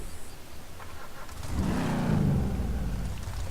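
Modded Vapid Dominator Classic muscle car engine in Grand Theft Auto 5, a low idle rumble that swells into a louder rev around the midpoint and holds steady, with no talk over it.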